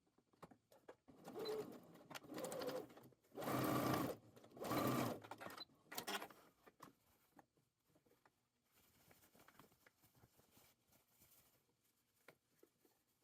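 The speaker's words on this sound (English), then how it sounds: "place your bust cups right sides together and sew the rest of the armhole." A sewing machine stitches a dress armhole in short loud bursts of rapid whirring, stopping and starting several times, with quieter handling noises in the pauses.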